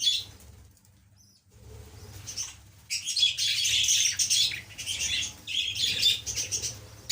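Budgerigars in a breeding colony, a dense mass of high chirps and chattering that swells loud after a brief quiet stretch, with some wing flutter and a low steady hum beneath.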